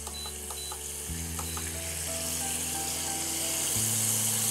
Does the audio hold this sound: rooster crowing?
no